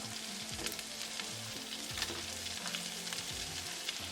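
Salmon pieces frying in a pan with garlic over medium heat: an even, close sizzle with a soft crackle continues without a break, with no voices.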